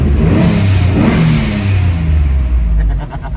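Turbocharged Nissan VQ35DE engine in a 300ZX revving hard during a race-style break-in, loud and close with a sustained rising and falling engine roar that eases slightly near the end.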